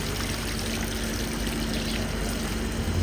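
Water pouring steadily during washing of food in a home kitchen, a continuous close splashing stream running without pause.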